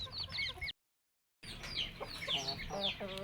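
A hen clucks nearby in agitated, repeated bursts with other chicken calls mixed in, briefly cut by a moment of silence before the clucking resumes.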